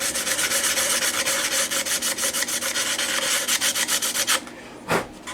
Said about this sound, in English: I think what I need to do is just sand those so that that lip isn't quite as obvious